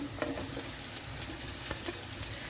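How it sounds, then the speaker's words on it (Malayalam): Chopped onion sizzles steadily in a hot pan for Kerala-style tin tuna, a constant close frying hiss with a few soft stirring scrapes and no talking. "ഒരു അത്യാവശ്യം വലിപ്പമുള്ള ഒരു സവോളയാണ് ചെറുതായിട്ട് അരിഞ്ഞെടുത്തിട്ടുണ്ട് അതുകൂടി നമുക്കിതിലേക്ക് ചേർത്ത് കൊടുക്കാം"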